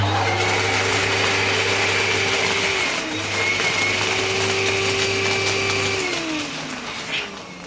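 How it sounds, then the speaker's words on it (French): An electric inflator whines with a steady motor drone as it inflates a large balloon, dips briefly in pitch partway through, then runs again before stopping near the end. "Donc là, je gonfle mon gros ballon."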